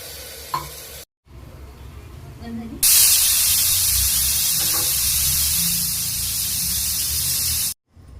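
Pressure cooker cooking matki (moth beans) in water vents steam: a loud, steady broadband hiss cuts in after a few seconds of quieter kitchen noise and holds for about five seconds before stopping abruptly.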